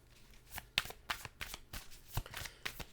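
Tarot cards being shuffled by hand in a quiet room, a run of crisp riffling bursts roughly every third of a second, fairly close and moderately soft, with no talk over them.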